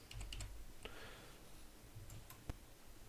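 Typing on a computer keyboard while entering names in an Excel spreadsheet, heard as a few faint, sparse key clicks and taps close by in a quiet room, with no speech.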